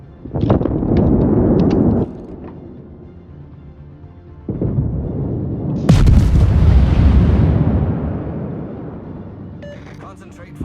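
Naval artillery fire during a World of Warships battle: several loud booming salvos with long rumbling decays, one big blast near the middle, set among game sounds and a voice speaking over it.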